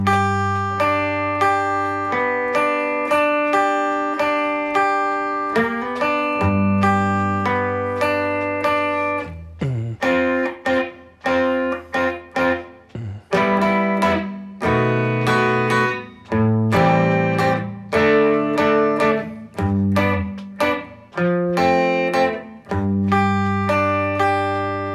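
Slow guitar run-through of a verse from a song, with sustained strummed chords and picked notes ringing continuously, close and clear, with no voice over it.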